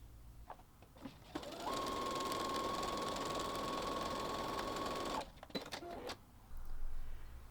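A sewing machine runs one continuous stretch of about three and a half seconds, stitching along the top fold of a tote bag pocket, with a steady whirring hum, close and clear, bracketed by small clicks and handling sounds; no talking.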